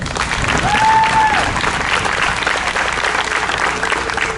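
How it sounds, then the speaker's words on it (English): A loud, sustained round of crowd applause for student athletes at a state championship ceremony fills the room evenly throughout, with no voice on top. "why don't we at this time take a moment to give them another round of applause"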